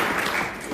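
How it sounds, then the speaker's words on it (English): Brief clapping from an audience at a sheriff's forum hosted by a local Democratic club, a short burst of dense applause at moderate level. "give the audience a round of applause"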